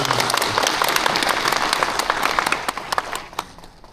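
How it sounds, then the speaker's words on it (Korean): Dense audience applause fills a Jeonnam Global Talent achievement-sharing session, loud and sustained, then thins out toward the end into a few scattered claps. "박수"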